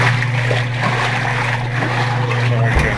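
Whirlpool 95405 top-load washing machine agitating water and clothes on a wash cycle, a steady loud churning slosh over a constant low motor hum, continuous throughout with no clear breaks.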